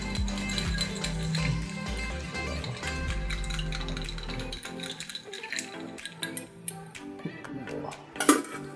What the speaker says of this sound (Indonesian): Oke, kita aduk dulu bro, brother